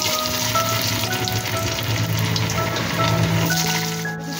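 Potatoes frying in hot oil with bay leaves, dried red chili, cinnamon and five-spice seeds, a steady crackling sizzle with faint clinks, close and continuous throughout.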